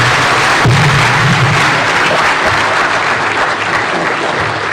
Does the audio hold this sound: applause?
yes